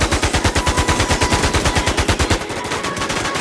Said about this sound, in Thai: ยิงเลยพี่เดีย